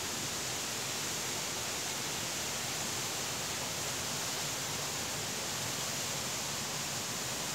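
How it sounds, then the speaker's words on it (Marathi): Water running along a stream beside farm fields in rural Maharashtra, a dense continuous rushing wash with no breaks, steady and fairly loud, heard alone without voices. "आणि आता चाललंय ओढ्याने पाणी"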